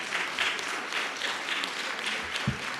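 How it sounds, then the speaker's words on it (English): Audience applause at a public-private business forum, a continuous, fairly even crowd of clapping hands with a few distinct louder claps standing out, heard from within the room. "Round of applause for her, please."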